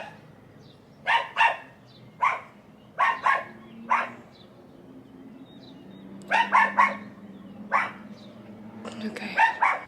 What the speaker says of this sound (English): that dog clearly hates me.